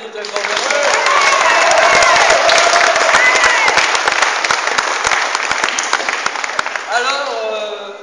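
A studio audience at a French television broadcast about poverty claps loudly and steadily for a newly introduced economics expert. The dense applause holds for about seven seconds, then tapers off as a voice begins speaking.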